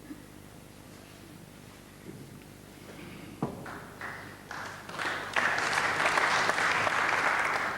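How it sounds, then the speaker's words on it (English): Scattered, hesitant applause from a snooker crowd at a UK Championship semi-final between Jimmy White and Matthew Stevens, starting thin and swelling into fuller clapping toward the end. "Some uncertain applause."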